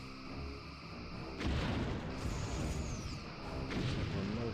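Starship weapons fire in Star Trek: Bridge Commander as two heavy booming blasts a couple of seconds apart, set over a constant low hum with a faint sweeping tone, moderately loud.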